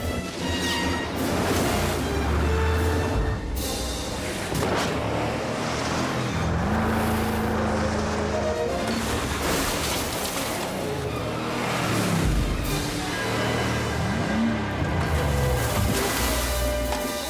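A car driven fast, with a loud, continuous engine roar and shifting revs throughout, the pitch rising and falling as it accelerates. No one speaks.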